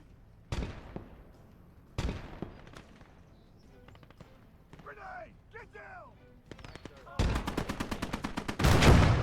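Bursts of gunfire crack out in Gates of Hell: Ostfront, a World War II game: scattered single shots early on, then a rapid machine-gun stream and a heavy blast near the end.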